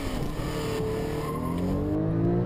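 Porsche 911 Carrera S or Carrera 4 GTS with PDK launching hard, a loud continuous engine roar rising steadily in pitch as it accelerates, with no talk over it.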